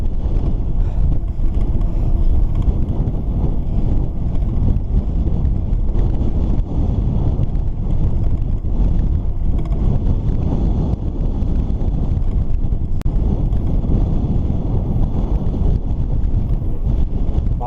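Strong gusts batter a cyclist's microphone on a ride toward downtown, a dense, continuous low roar that stays loud and unbroken throughout, with no talking.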